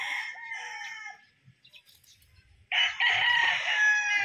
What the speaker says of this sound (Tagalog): Ayan, ang bull stag ni GTP.